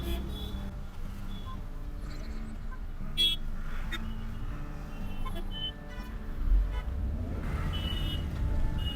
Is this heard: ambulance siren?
no